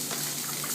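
Julienned dried apricots are dropped into liquid in a cooking pan, and a short bright watery gush and splash follows, close and continuous.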